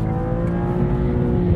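High-revving car engine sits near redline with the automatic transmission holding revs, a sustained loud, steady drone close by.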